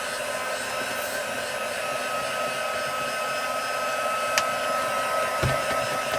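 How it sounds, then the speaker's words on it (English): A heat tool blows steadily to dry ink on card, a continuous airy whir holding level for several seconds with a faint click near the end and no talking. "we're going to go in with the heat tool and dry it off"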